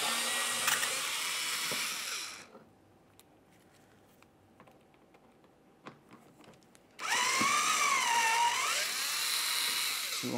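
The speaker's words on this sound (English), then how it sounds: "You'll find that you have several T20 screws to remove." Power driver backing out T20 screws from the wheel well liner of a 2008-2017 Buick Enclave, a loud whirring burst at the start, a quiet gap, then another sustained whine with a rising and falling pitch, close by and with no talk.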